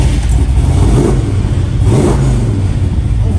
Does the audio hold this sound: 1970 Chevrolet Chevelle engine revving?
yes